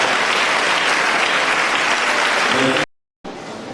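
A church congregation applauds loudly to welcome the Lord, a dense, sustained wash of clapping that carries on for nearly three seconds, breaks off briefly, then picks up again.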